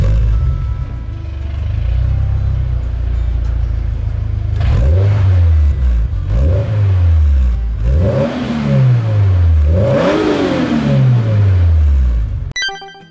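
A bolt-on-turbo Toyota 86 with a Kakimoto Racing Kai exhaust idles with a low, steady burble, then is revved four times. Each rev rises and falls, growing higher and louder, recorded up close with no talking.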